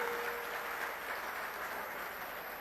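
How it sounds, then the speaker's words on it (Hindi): Sustained applause from the crowd at an outdoor AAP election campaign rally in Kurukshetra, a steady even wash of clapping through the whole short stretch, heard at a moderate distance. "उनके लिए भी जोरदार तालियां।"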